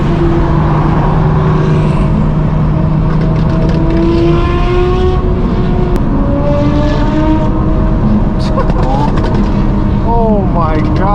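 Straight-piped BMW M4 G82 chasing supercars, its loud exhaust roaring alongside other high-revving cars, with rising and falling engine tones throughout and people talking over the constant din.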